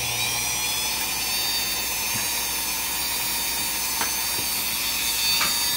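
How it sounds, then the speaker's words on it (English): A small drill bores a hole in plastic during model ship work, giving a steady, continuous whirring whine that runs close and fairly loud for several seconds, with a few faint clicks along the way. "see if it's possible to drill a hole using this"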